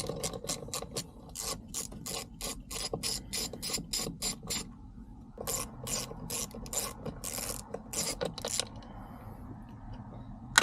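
A ratchet wrench clicks steadily while bolts come out during a short shifter install on a Toyota MR2, rapid close metallic pawl ticks in bursts with a brief pause midway.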